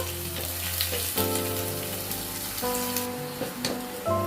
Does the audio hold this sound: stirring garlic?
yes